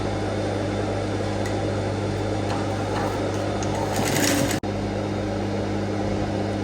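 A sewing machine runs steadily while stitching fabric along a drawn line for a V-neck boubou, its close, constant motor hum broken by one brief drop near the end.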